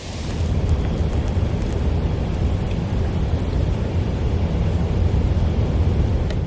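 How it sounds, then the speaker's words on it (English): Heavy rain pours down at 12 Mile Beach on the Picture Rocks National Lakeshore, a loud, steady roar of downpour with a dense low rumble throughout and no voices. "Here comes the rain."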